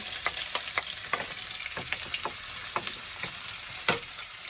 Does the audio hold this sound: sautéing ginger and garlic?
yes